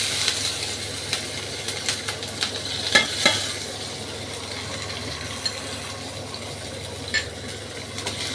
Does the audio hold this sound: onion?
yes